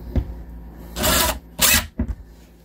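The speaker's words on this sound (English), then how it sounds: "I will actually start the hole with the drill." A power drill whirs in two short bursts with brief pauses between, starting a hole while fitting soft-close hinges in a Winnebago View motorhome, followed by a quick stuttering rev, close by and fairly quiet overall.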